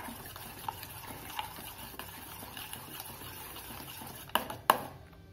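A spoon slowly stirs banana, milk and sugar shikran in a bowl, a faint soft swishing capped by two sharp clinks against the bowl near the end.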